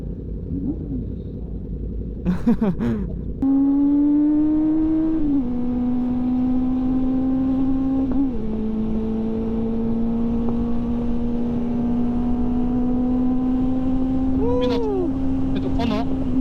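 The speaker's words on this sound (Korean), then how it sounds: "우민아 브이텍 들려줘." Honda CB400 motorcycle engine revving up from idle and holding a steady high drone, switching into its VTEC tone as revs climb, close by and loud, with brief bursts of voices around it.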